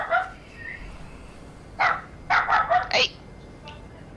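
A pet dog indoors barks in a quick burst of four or five sharp, fairly close yaps after one earlier bark, with a brief spoken word between them.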